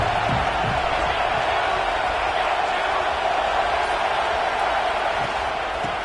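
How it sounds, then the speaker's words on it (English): A large football stadium crowd roars continuously at a college game between Notre Dame and Oklahoma State, a dense, loud wash of cheering and whooping that fills the whole stretch without letting up. "This crowd ready to make its presence known."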